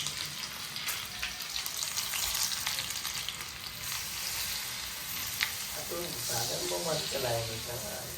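Spices sizzle and splutter loudly in hot oil, a dense crackling hiss throughout, with a voice briefly speaking near the end.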